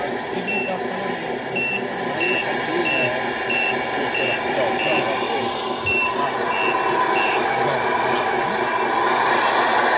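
A small machine moving sand and stone in reverse gives a steady series of evenly spaced electronic beeps over a loud, continuous motor and grinding rumble, with people talking.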